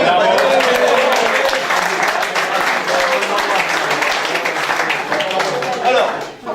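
Audience applause at a golf club's association cup prize-giving in Gonesse, steady dense clapping throughout, with voices mixed into the crowd.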